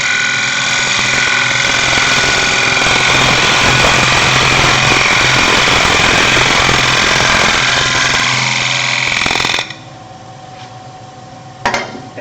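A wood lathe spins as a gouge tip takes a slicing cut across the bottom of a turned bowl or lidded box, a loud steady whirring, rasping cut lasting about nine seconds, then stopping abruptly to quieter motor hum.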